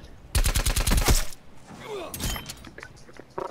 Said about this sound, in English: Don't ever shoot me from the back again.